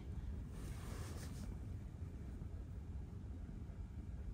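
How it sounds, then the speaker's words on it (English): Strong, steady wind roars outdoors at a lakeside campground, a constant low rushing buffeting throughout with no speech. "It is so cold and it's so windy."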